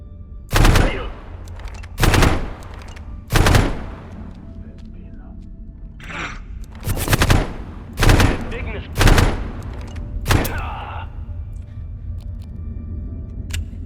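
Battle rifle gunfire in the video game Abiotic Factor: about seven sharp, loud bursts of shots in a broken rhythm over a low ambient rumble, with brief mechanical clicks between them and no talk.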